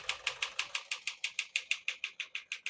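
Typing on a 1957 Smith-Corona Silent-Super portable typewriter, a close, even run of about seventeen crisp keystrokes in quick steady rhythm, heard alone.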